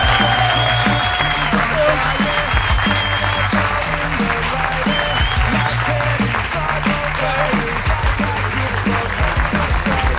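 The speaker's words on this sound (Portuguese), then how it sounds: "Forte aplauso a todos." Audience applause after a Christmas roast show, continuous dense clapping with a steady beat of music underneath, sustained at even loudness throughout.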